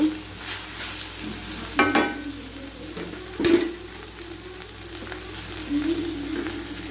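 Capsicum frying in a pan, a steady soft sizzle with a few stirring scrapes and clinks of a utensil against the pan, close and alone without any talk.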